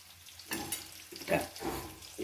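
A coconut fish curry seasoned with fenugreek powder boils in a pan, with soft bubbling and sizzling bursts rising and falling at close range.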